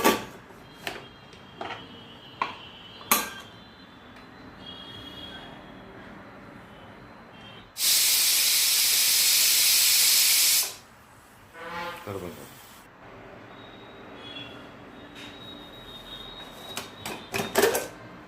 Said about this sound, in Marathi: कुकरच्या 2 शिट्या घेऊन घेऊ.